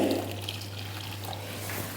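Hot water is poured into a bowl for jelly, a close, steady liquid rush and trickle over a constant low hum, with no voices.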